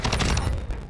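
Rapid burst of gunfire shot through a crate in Modern Warfare 2, a close, loud volley of several quick cracks packed into under a second.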